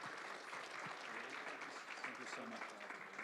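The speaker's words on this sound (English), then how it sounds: "Let's give our panelists a round of applause." A crowd applauds the panelists after a panel discussion, a continuous soft patter of clapping heard at some distance, with voices mixed in underneath.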